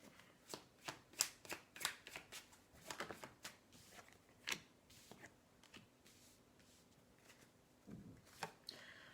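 Tarot cards are drawn and handled from a deck, giving a run of crisp, close card snaps and shuffling flicks in an irregular rhythm with quiet gaps between.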